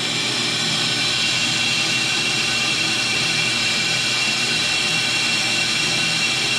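A brake lathe cuts a brake rotor at high speed, giving a loud, steady, broadband roaring whine that holds constant throughout without breaks or voices.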